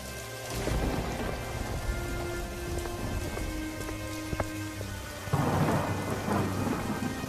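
Heavy rain pours steadily on a cold night while thunder rumbles and cracks through the downpour, with a louder burst of rain and thunder near the end; no voices.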